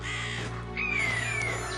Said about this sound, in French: Là se dressait un arbre sans feuilles, un arbre mort, où se tenait une colonie de corbeaux.